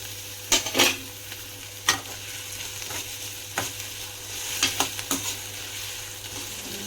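Ginger garlic paste and onions sauté in a pan for a bitter gourd thokku, a soft continuous sizzle broken by several sharp scraping stirs of a spoon against the pan, with no voices.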